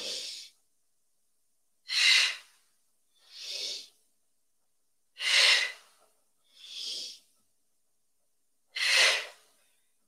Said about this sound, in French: C'est des fortes expirations, fortes expirations.